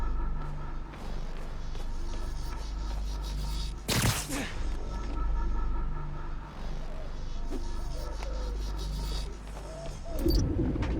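Pigeons coo in a park in a Spider-Man video game, soft repeated calls under steady ambient hum, with a sharp whoosh partway through and rustling near the end.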